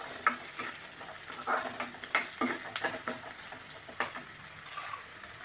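Onion sautéing in hot oil in a pan for egg podimas, a steady sizzle and crackle with scattered stirring scrapes and spatters, close and continuous with no talking.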